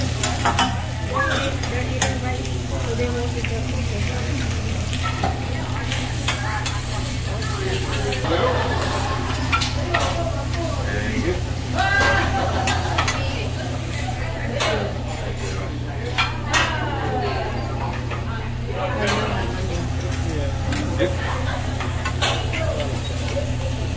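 Food sizzles steadily on a hot hibachi grill while metal utensils clatter and scrape, with people chatting over the frying at a birthday meal.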